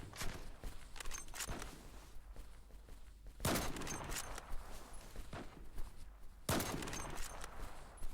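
Gunfire in the online shooter Zula Strike, with bursts of rapid shots and sharp reports breaking out repeatedly over ongoing game action, loud and close, with no talk.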